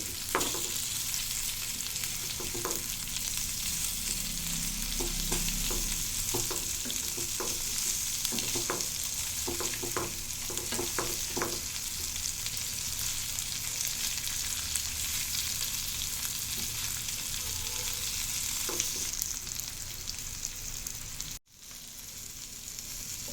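Fish fries in a pan over a medium flame, giving a steady, close crackling sizzle for over twenty seconds, with a run of light scraping stir clicks near the start and a brief drop near the end.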